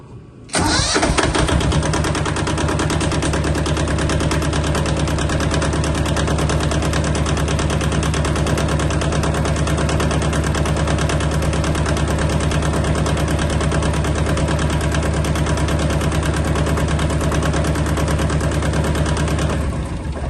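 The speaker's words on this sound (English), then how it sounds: "I'm going to start it with you guys right there and we're going to watch it shake violently." A Yanmar tractor's diesel engine cranks briefly and catches, then settles into a loud, steady idle with a dense rapid chug and strong low rumble that continues unbroken, close to the microphone, with no talking.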